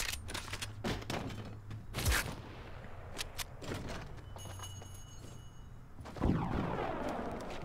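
Scattered gunshots in the mobile game Fortnite, sharp intermittent cracks and thuds at a moderate distance, with a louder impact near the end and no talk.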